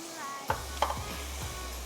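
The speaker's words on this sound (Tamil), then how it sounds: "நல்லா அந்த தண்ணி கொதிக்கும் போதே மிக்ஸ் பண்ண ஆரம்பிச்சிருங்க" A spoon scrapes and stirs thick rice flour mixed into boiling water in a pot a couple of times over a steady low bubbling simmer.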